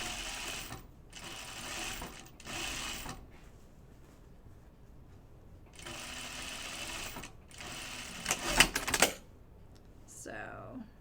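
Sewing machine top stitching a Myosotis dress, running in several bursts of steady mechanical whirring separated by brief pauses, with a louder clattering spurt near the end.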